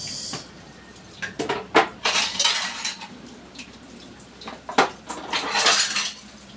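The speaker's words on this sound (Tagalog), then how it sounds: "maghugas ng plato" Dishes and plates being washed by hand in a home kitchen: close, irregular clinks and clatters of cutlery and crockery with a faint watery undertone, no talking.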